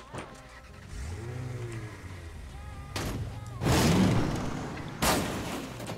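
A car engine revs in the Rules of Survival battle royale game, a rising motor drone that surges louder in two bursts toward the end, close and prominent.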